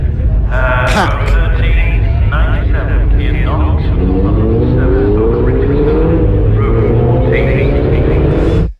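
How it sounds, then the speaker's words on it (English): Mark 1 Mazda MX-5 race cars head out onto the Croft circuit, their engines a steady, loud droning rumble with rising pitch sweeps as the pack moves off, while a commentator talks continuously over it. "the Mazda MX-5 Championship then makes its way out onto the circuit"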